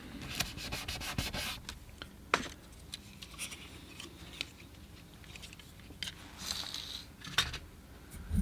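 Tape pulled and pressed down to hold watercolor paper, a quiet papery rubbing with faint rustles, scratches and a few sharp ticks.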